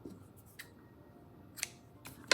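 Scissors trim yarn for a bookmark tassel, giving a few short, crisp snips spaced apart, close and quiet in a still room.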